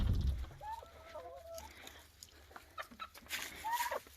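Chickens cluck in a backyard homestead chicken run, several short clucks and calls scattered over a few seconds at moderate distance amid outdoor background noise.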